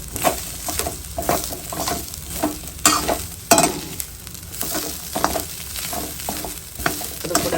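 Grated coconut and a small piece of tamarind dry-roast in a pan without oil for chutney, a steady soft sizzle broken by repeated scraping stirs of a spatula, close and moderately loud, with no talk.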